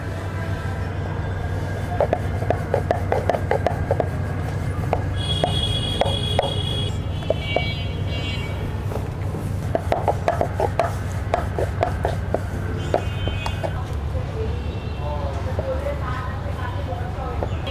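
Paratha dough is rolled out on a board, giving a steady rhythmic rubbing and thudding with faint clicks, close by, under a constant low background hum.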